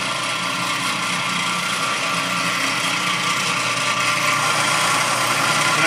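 A drill press motor runs steadily with a loud, even mechanical whine and hum throughout, with no pauses.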